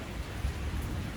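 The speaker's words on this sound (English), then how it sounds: "it is raining again. It is. You can hear the thunder." Steady rain falls outdoors, with a low thunder rumble running beneath the constant patter, fairly close and loud with nothing else over it.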